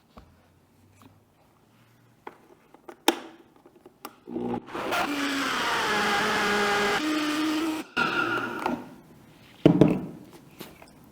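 A blender whirs through homemade hummus made with sprouted chickpeas, fresh tahini, garlic, lemon and cumin, a loud steady motor run of about three seconds that cuts off and then briefly restarts, with a few clicks and knocks before it.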